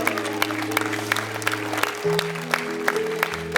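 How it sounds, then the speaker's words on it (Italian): An outdoor concert crowd in Piazza Manzoni, Jesolo, claps in a steady, even rhythm over sustained musical tones that shift pitch partway through. "facciamo l'applauso a Flavio che è là che ci guarda"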